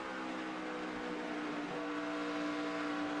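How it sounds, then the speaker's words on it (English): An on-board NASCAR race car at the 2011 Ford 300 drones loudly and continuously at high revs as the driver eases the throttle heading into a corner, the engine note dipping slightly partway through. "Hear him breathing the throttle going into the corner"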